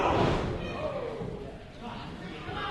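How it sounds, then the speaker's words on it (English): In a professional wrestling match, a heavy thud opens as a wrestler is slammed into the corner stairs, followed by crowd noise while a commentator talks throughout. "Van Landon slammed into the apron and then sent rear end over tea kettle into the corner sta"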